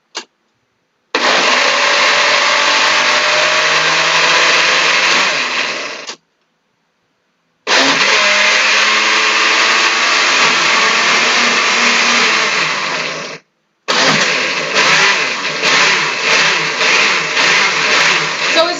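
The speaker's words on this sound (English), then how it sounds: "now my poor blender is struggling." A kitchen blender grinds a thick vegan mixture in three long loud bursts separated by short pauses, its motor droning and straining, with the last burst turning choppy and uneven as it labors.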